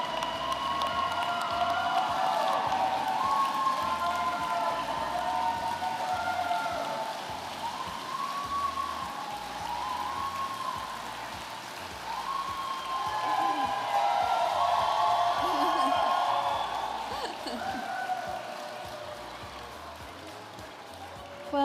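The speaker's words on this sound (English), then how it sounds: "Please give a big round of applause to the ESSEC Executive MBA class of" Sustained applause from the audience at the ESSEC Executive MBA class of 2021 graduation ceremony, a steady dense wash of clapping running for about twenty seconds with some crowd noise mixed in.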